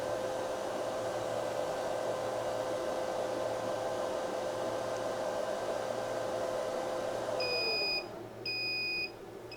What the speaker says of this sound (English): The blower will come on